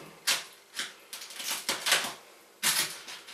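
A spatula cutting through melted cheese and crispy tortilla chips of a nacho dish, a series of short crunchy crackles in uneven bursts, close and fairly loud, with no talking.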